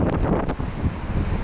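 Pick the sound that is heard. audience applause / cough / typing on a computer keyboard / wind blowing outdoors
wind blowing outdoors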